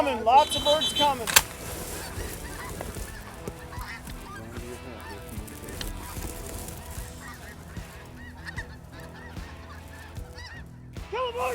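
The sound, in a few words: snow geese honking in flight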